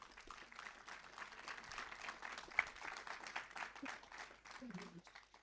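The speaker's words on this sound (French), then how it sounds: "Je crois qu'on peut l'applaudir." Soft audience applause at a Lausanne literary prize podcast event, a faint patter of claps lasting about five seconds, with a voice briefly heard near the end.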